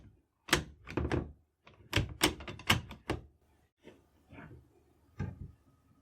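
A restored Dutch Model 1871/88 Beaumont rifle has its action worked by hand. A series of close, sharp metallic clacks and thunks from the bolt comes in quick clusters with short pauses between them.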